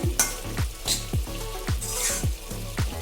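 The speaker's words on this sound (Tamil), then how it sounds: "அப்புறம் கொத்தமல்லி இலை தூவி விட்டு நல்லா கிளறிக்கோங்க." Mutton liver fry sizzling steadily in a pan, with repeated scraping stirs at a regular rhythm every half second or so as coriander leaves are mixed in, close and fairly loud with no talking.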